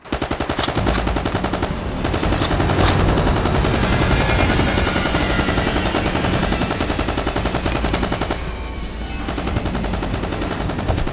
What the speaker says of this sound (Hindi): गोलियों की आवाज कैसी?